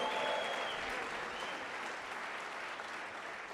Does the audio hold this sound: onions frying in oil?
no